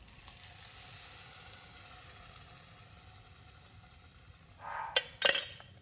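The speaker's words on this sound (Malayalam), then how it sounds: "ഇതൊന്ന് ചൂടായി വരുമ്പോഴേക്കും നമ്മൾ അരച്ച് വെച്ച ആ ഒരു പപ്പായ പേസ്റ്റ് ഇതിലോട്ട് ചേർത്ത് കൊടുക്കുക" Papaya paste going into hot ghee in a pan for papaya kheer, a soft steady sizzle that ends in a couple of louder scraping, clattering stirs near the end.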